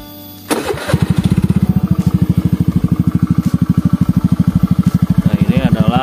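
A Honda Scoopy FI scooter with a TJM Project exhaust, run without a dB killer after nearly two years of use, starts with a short burst and then settles into a loud, close, steady idle with fast, even putting pulses.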